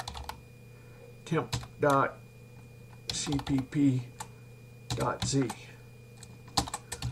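Computer keyboard typing at a command line in the TempleOS editor, a few quick bursts of keystrokes between stretches of someone speaking, close and clear.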